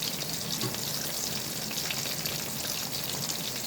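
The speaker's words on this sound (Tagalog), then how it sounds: "Pinagsama ko yung yung talong sa pagpriprito" Shrimp and eggplant frying together in a pan, a steady dense sizzle with crackling spatter running evenly throughout, close and fairly loud with no talking.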